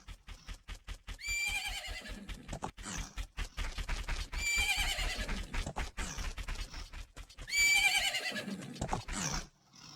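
Epona, the horse in Majora's Mask, neighs loudly three times among rapid, rhythmic clip-clop hoofbeats from the game.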